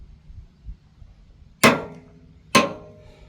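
Milwaukee M12 Stubby 2563-20 cordless impact wrench tightening a nut to high torque, two sharp loud hammering bursts about a second apart, each decaying quickly, over a low background hum.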